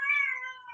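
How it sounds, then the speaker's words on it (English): A house cat meows in a single drawn-out, fairly clear call, close by and alone with no talk over it. "can you hear that cat in the background?"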